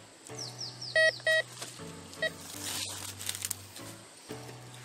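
Metal detector sweeping over a snail shell in a river at a haunted-seeming stream, giving several sharp, loud electronic beeps in quick pairs over a steady low hum, with faint splashing and rustling around them.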